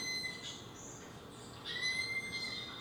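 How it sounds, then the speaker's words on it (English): Two male sloths fight in a forest, heard from a couple hundred meters away: faint, thin high-pitched squeals and squeaks drift in short repeated bursts over low background hiss. "So that is actually two male sloths fighting."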